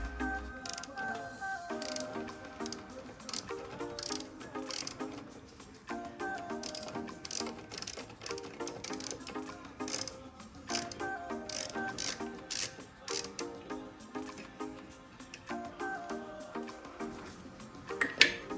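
A ratchet fitted with a 5mm Allen socket clicks in quick repeated bursts while loosening a motorcycle rear brake bolt, close and fairly faint, with short pauses between runs of metallic ticking.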